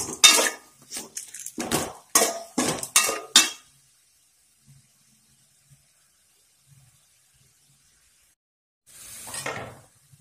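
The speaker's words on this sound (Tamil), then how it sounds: "இதை வந்து நல்லா வதக்கிக்கணுங்க" A metal spoon clinks and scrapes against a pan in a rapid cluster while turmeric is sautéed for gooseberry rice, followed by near silence and one more brief burst of stirring near the end.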